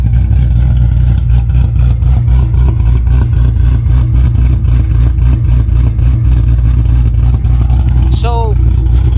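Ford Mustang Boss 302 V8 with BBK Veritune exhaust, a loud, close, deep idling burble with a pulsing rhythm, then a short rising rev near the end; people talk over the engine.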